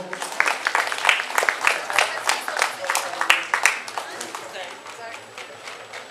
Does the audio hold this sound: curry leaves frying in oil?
no